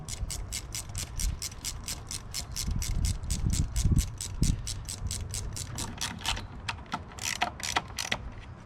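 A ratchet tightening bolts on a 2005 Toyota engine during a valve cover job: a long run of rapid, evenly spaced metallic clicks up close, with brief pauses and a faster burst near the end.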